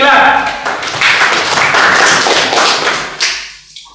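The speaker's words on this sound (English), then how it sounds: "Give him a clap." Students in a classroom clap loudly together for a classmate, a dense burst of hand claps that thins out and fades over a few seconds, with voices mixed in.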